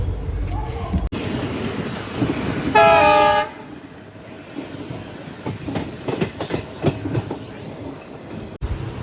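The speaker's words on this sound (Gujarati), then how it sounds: "ગાડી તો ઉપડી જઈ છે મહેસાણાથી રેલવે સ્ટેશન છોડી રહી છે" A passenger train departs Mehsana railway station with a loud horn blast, followed by rolling wheel clatter and rhythmic clicks of the carriages gathering pace, heard from on board with faint voices around.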